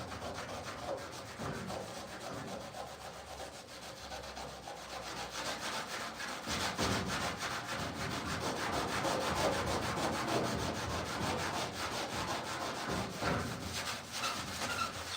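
Sanding surface rust off the body of a 1969 VW Westfalia in a single garage makes a continuous, close, gritty abrasive hiss that swells slightly louder midway and runs unbroken.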